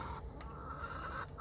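Faverolles chickens cluck softly in a short, faint burst of farmyard chatter, low and distant with no talk over it.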